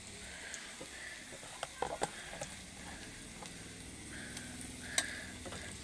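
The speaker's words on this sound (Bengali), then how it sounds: "পেঁয়াজ কাটছি, পেঁয়াজ ভাজছি।" Onions frying with ginger garlic paste in a pan make a faint, soft sizzle, broken by scattered clicks and light taps of a utensil against the pan.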